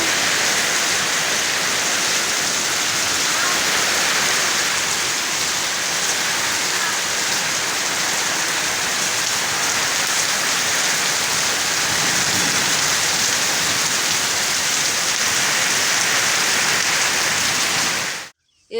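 Heavy rain lashes a village home with lychee trees nearby, a loud, continuous roar of drops hitting surfaces that holds steady until ending abruptly.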